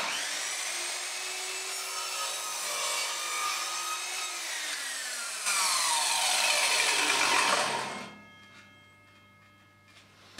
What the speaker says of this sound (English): And now we can cut this piece at exactly the same angle.